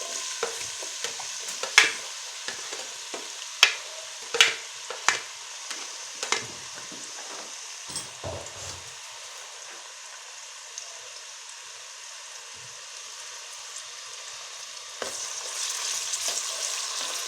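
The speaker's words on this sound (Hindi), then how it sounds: "प्याज को फ्राई करेंगे तब तक जब तक इनका कलर हल्का सा गोल्डन नहीं हो जाता।" Onions frying in about a quarter cup of oil in a kadai, with a soft steady sizzle broken by several distinct knocks and scrapes of stirring early on, then a brighter crackle swelling near the end.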